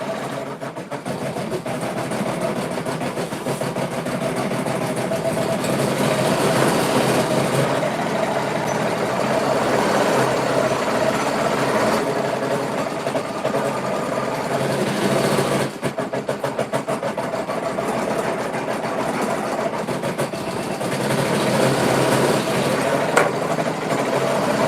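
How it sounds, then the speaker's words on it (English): Sewing machine running steadily as it stitches on buttons, part of making a shelf nutcracker figure; a continuous close mechanical whir lasting the whole time, with a brief dip midway. "Now this is going to go around and sew the buttons."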